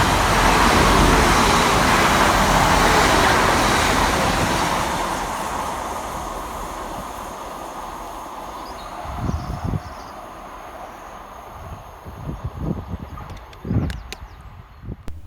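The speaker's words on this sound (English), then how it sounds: "Next passing through the station is 185-151 and 185-119, working 1p78 from Saltburn through to Manchester Airport." A pair of Class 185 diesel units passes through Mirfield railway station. A loud rushing roar of wheels and engines fades over several seconds, followed by fainter clanks and rail knocks.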